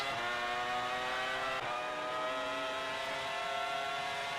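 A Formula-style race car engine in a racing video game at the Austrian Grand Prix climbs through the revs in seventh gear, a steady, buzzing, high-pitched drone that holds on without a break and no talk over it.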